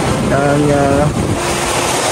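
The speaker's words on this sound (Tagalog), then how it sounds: "Ganyan po kalakas yung alon dito ng dagat po" Strong sea waves surging along a shore in heavy wind, a loud, constant roar dominated by gusty wind buffeting, with a faint voice partly audible beneath it.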